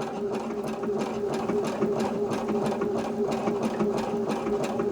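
A Brother CS5055 sewing machine runs steadily while stitching a pillowcase, finishing with a back stitch: a loud, continuous mechanical whir with a rapid rhythmic needle clatter throughout, alone without talk.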